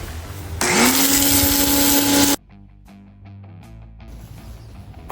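A foam sprayer blasts Chemical Guys Mr. Pink soap onto an off-road RZR, loud and hissing with a rising whine for about two seconds, then cutting off into quieter clicks and rustles.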